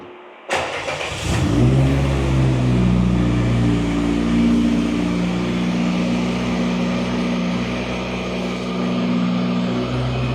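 A home-built car's engine catches with a sharp start, then revs and settles into a loud, sustained, throaty idle that carries steadily, heard close with no talking.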